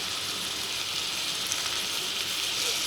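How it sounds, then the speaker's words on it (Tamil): Onions, tomato and green chilli fry together in a pan for Tamil kothu parotta, giving a continuous even sizzle and crackle throughout, close and moderately loud, with no voices. "எல்லாத்தையும் சேர்த்து நல்லா வதக்கிக்கணும்"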